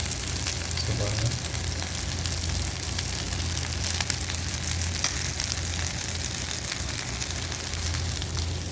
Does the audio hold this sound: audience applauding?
no